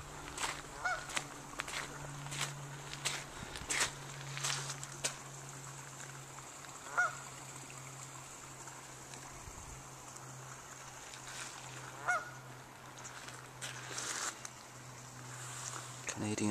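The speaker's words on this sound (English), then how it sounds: "Canadian geese" Canada geese honk in scattered calls outdoors at Grasmere over a steady low engine hum and water ambience, with occasional voices nearby.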